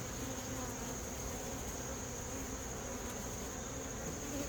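Carniolan honeybees buzzing inside a horizontal hive during a late-season inspection, a steady, dense hum of many bees heard up close that holds unbroken throughout.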